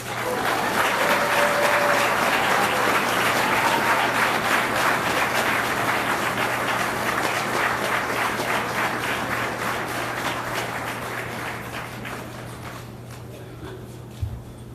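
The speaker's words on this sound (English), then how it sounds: "Let's give her another round of applause" An outdoor crowd at a New York City groundbreaking ceremony gives sustained, dense applause that holds steady for several seconds, then gradually thins and tapers off, ending with a single close thump.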